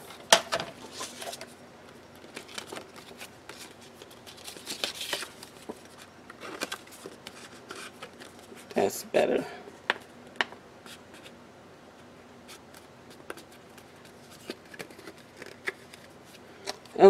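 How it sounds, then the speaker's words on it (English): Small scattered snips and paper rustles as patterned paper is trimmed down for a clear planner pocket on a micro disc notebook, quiet handling clicks spread across the stretch. "I'm going to trim it down just a little bit because I don't want to have to fight with it"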